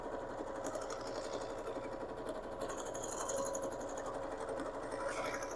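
A sewing machine doing free-motion quilting on quilted fabric, running steadily with a rapid, even needle chatter and motor hum, close and continuous with slight changes in pace, no talking.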